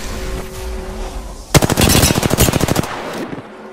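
Rapid automatic gunfire in the Apex Legends video game, a loud sustained burst of closely spaced shots that starts abruptly after a quiet lead-in and then trails off.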